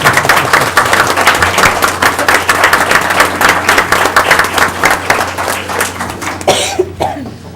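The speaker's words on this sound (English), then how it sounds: "I'd like to just applaud the efforts of our students one more time" An audience applauding students at a school board meeting, steady dense clapping in a meeting room with a few coughs, fading out toward the end.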